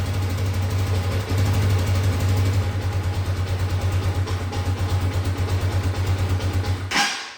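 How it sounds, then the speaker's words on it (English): A 2022 Bashan Brozz 250 engine idles with the throttle held slightly open, a close, steady low thrum with a fast pulsing beat and a slight rise partway through, cutting off abruptly at the end. "I'm not sure if it's gonna idle. I might have to adjust the idle up just a little bit."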